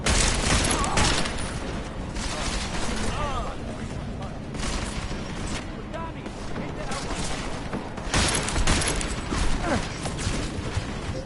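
Dense video game shootout, rapid overlapping gunfire and booms in heavy volleys, loud and sustained, with voices and radio chatter mixed in.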